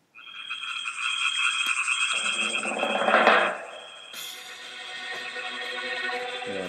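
A track built on a song overlaid with frog sound effects, heard as bright electronic melody lines over a steady beat with croaking frog noises layered in, the music shifting to a new section partway through.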